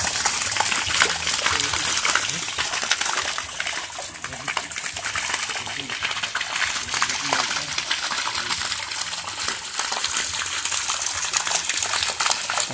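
Water pours steadily into a newly built fish-breeding tank, a loud, unbroken rushing and splashing that runs the whole time with no pause.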